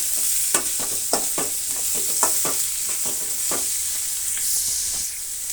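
Roasted peanuts sizzle in hot oil in a pan for uppittu while a spoon stirs them, giving repeated scraping strokes over a steady close frying hiss.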